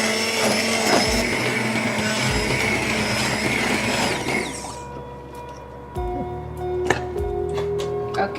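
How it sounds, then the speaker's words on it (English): Hand mixer pureeing pumpkin and buttercup squash soup in the pot, a loud grinding, rattling whir for about five seconds, then quieter knocks and clatter of the utensil. "I am going to take the mixer, and I'm going to puree it."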